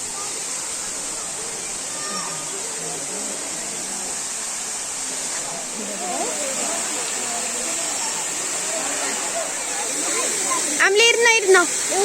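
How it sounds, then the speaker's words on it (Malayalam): Rushing water at Thusharagiri waterfall, a steady broadband roar heard from nearby throughout, with faint voices of people and a brief chirping sound rising near the end. "നമ്മൾ വെള്ളച്ചാട്ടത്തിന്റെ അടുത്ത് പോവാൻ കേട്ടോ."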